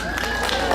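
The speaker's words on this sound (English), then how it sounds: "Will you give him a round of applause, please?" A crowd gathered outdoors for a Christmas lights switch-on applauds, a soft, fairly distant patter of clapping with faint murmuring mixed in.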